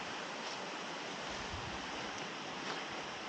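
A stream flows well below a trail through rainy Tennessee forest, heard as a steady, faint, even rush of water with no voices over it.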